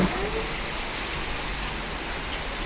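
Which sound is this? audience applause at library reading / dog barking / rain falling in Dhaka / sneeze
rain falling in Dhaka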